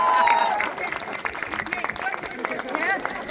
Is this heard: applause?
yes